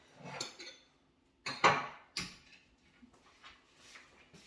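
A small bowl and utensils for cutting fruit are gathered in a kitchen: a few distinct clinks and clatters of dishware and cutlery, separated by short pauses, close by and moderately loud.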